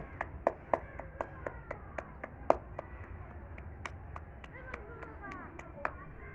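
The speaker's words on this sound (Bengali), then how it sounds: "হাততালি দে। হ্যাঁ, হাততালি দে।" Sharp claps ring out irregularly at a birthday garlanding ceremony for Netaji, with a crowd murmuring and talking underneath. The claps are moderately near and scattered rather than in a steady rhythm.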